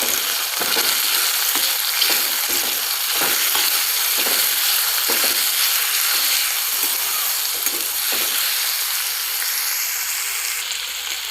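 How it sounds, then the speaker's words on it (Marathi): Ginger garlic paste fries in a hot pan for a ridge gourd and moong dal bhaji, a loud continuous sizzle with repeated spoon scrapes of stirring, close by and without speech. "आणि याला पण आपण छान असं मिक्स करून घेऊया."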